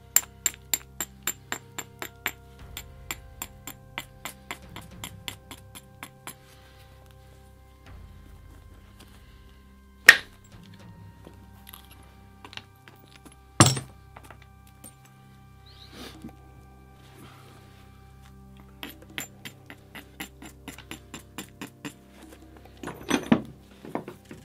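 Flint knapping: stone struck against flint to thin and shape a tool, heard as sharp, close clicking and cracking taps, some in quick rhythmic runs and others as isolated louder strikes with quiet gaps between.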